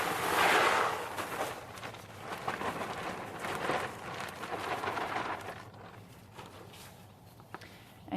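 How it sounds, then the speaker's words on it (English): Bag of wood pellets for a horse stall poured into a bucket, a loud rushing rattle of hard pellets at the start that tapers into scattered patters and settling rustles, with no talking. "So I actually put the bag of pellets into the bucket, the whole thing"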